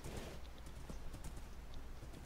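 Horse hooves clip-clop in quick uneven steps while riding in the video game Minecraft, soft clicking strikes over light background noise without talk.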